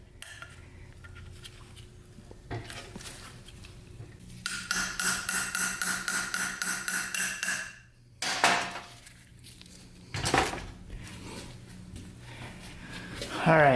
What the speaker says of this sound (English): I did have to stand it up and kind of tap on it a little bit